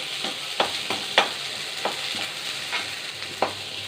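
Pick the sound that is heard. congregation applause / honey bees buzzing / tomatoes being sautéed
tomatoes being sautéed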